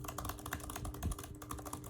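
Fast, steady typing on a 2020 MacBook Air keyboard, dense close clicks of the keys in continuous rhythm with no voices.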